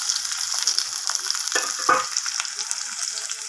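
Onions and curry leaves fry in hot oil with a continuous bright sizzle, and a couple of stirring scrapes stand out near the middle; no one speaks.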